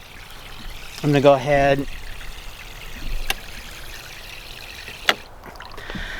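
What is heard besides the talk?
water running from a garden hose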